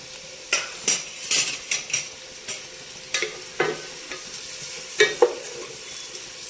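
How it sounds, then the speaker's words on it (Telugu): Curry leaves and green chillies frying in hot oil for a fish curry, a steady close sizzle broken by repeated sharp scrapes and clinks of a spoon stirring in the pan, with no talking. "బాగా ఎర్రగా వేగాలి."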